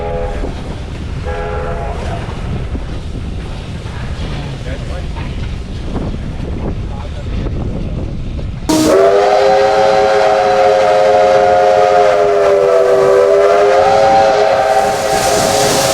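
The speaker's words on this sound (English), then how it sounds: "D3639 shunts the freight train back towards the workshops" Diesel locomotive D3639 shunts a freight train at a railway workshop, with low rumbling movement that gives way midway to a loud, sustained multi-tone horn blast that holds to the end.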